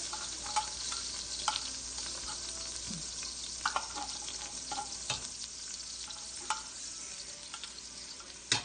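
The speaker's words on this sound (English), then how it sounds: "Oh, the water's splattering." Tomato paste and sauce sautéing in a pan give a steady close sizzle with scattered pops and spatters, plus occasional stirring clicks, heard alone without talk.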